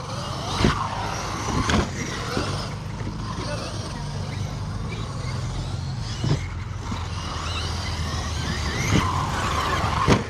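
Tires of an RC car, a Traxxas Revo among others, slide and skid across the ground at an outdoor bash session, a steady rough scrape with sharp bursts, voices talking over it.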